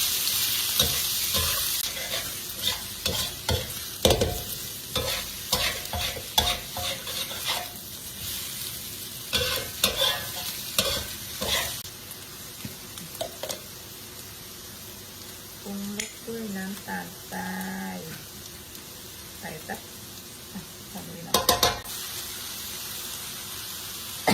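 Pounded chili, holy basil and garlic with sausage stir-fried in a pan, giving bursts of sizzling hiss and repeated scraping strokes of a spatula that fade to quieter frying while someone talks over it.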